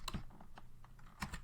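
Keystrokes on a computer keyboard while a Linux copy command is entered at a terminal, a quick cluster of clicks, a pause, then another short burst, close and fairly quiet.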